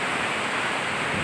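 Steady, loud rush of heavy rain and flowing floodwater outdoors, a dense uninterrupted wash of noise with no distinct events.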